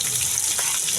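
Beaten egg seasoned with salt lightly frying in a pan for a pasta dish, a steady bright sizzle with soft crackle, close and alone.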